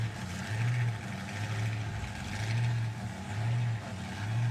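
A drag racing car at a nostalgia drag meet revving high, with repeated surging engine roars that rise and fall in a steady rhythm, close and loud.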